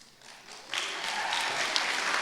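Steady applause from an audience at an MBA for Executives commencement ceremony, starting modestly and swelling to a sustained, dense wash of clapping that holds through to the end.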